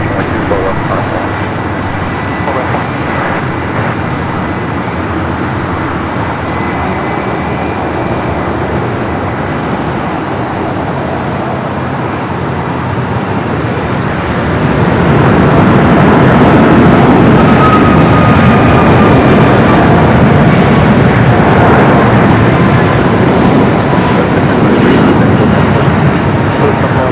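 A KLM airliner taking off from runway 24 left at LAX, heard at a distance as a broad, steady engine roar that swells noticeably about halfway through and holds loud to the end.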